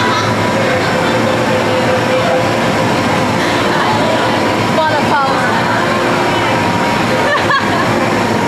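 A train at Hong Kong Disneyland station produces a steady loud rumble and hiss of rail running with brief squeals and clatter, while indistinct voices mix in.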